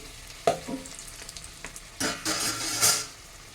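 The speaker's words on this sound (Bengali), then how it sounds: "এবার আমি লুচিটাকে উল্টে দিচ্ছি" A flipped luchi sizzles in hot oil, a sharp utensil clack followed by soft frying, then louder bursts of bubbling crackle swelling for about a second before easing.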